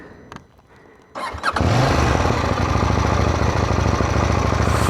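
A KTM Duke 790 motorcycle engine is started with a brief cranking sputter, then catches and settles into a loud, steady, rumbling run close by.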